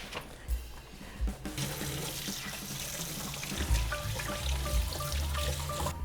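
Running tap water pours steadily into a kitchen sink as hands are washed under it, a continuous close splashing flow with a few brief thumps near the start.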